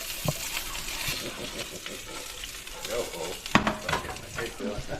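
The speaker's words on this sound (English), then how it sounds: "we're going to fry up our peppers and onions first" Peppers and onions frying in a skillet, a continuous close sizzle with stirring scrapes and a couple of sharp utensil clanks against the pan.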